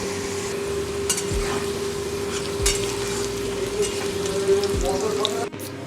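Potatoes frying in oil in a kitchen, a continuous close sizzle with a steady hum underneath and a few stirring scrapes and clinks, ending abruptly near the close.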